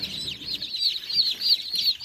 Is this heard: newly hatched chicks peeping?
yes